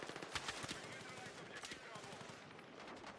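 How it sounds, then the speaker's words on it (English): Machine gun fire in a video game crackles in rapid bursts of quick, distant-sounding shots, fairly faint and without a pause for its short length. "Hostile machine gun!"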